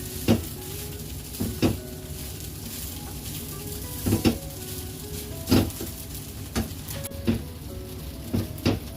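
Crumbled leftover idli stirred in a frying pan over a low flame for upma, a steady sizzle carrying repeated sharp scrapes and knocks of the spoon against the pan, close and fairly loud, with no talking.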